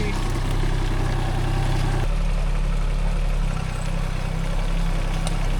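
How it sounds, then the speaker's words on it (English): A tractor engine idles close by with a steady low throb, shifting pitch slightly partway through. "Tractor in the Airbnb."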